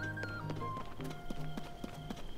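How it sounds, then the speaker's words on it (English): Horse hooves clip-clopping in the video game Zelda: Tears of the Kingdom, a steady rhythmic trot of sharp, close hoofbeats set against game music. "Hey, there's a horse."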